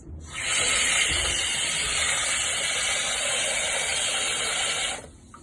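Running water rinsing food in a bowl or under a tap for the third time, a steady rushing spray that starts abruptly, holds even and loud for several seconds, then cuts off.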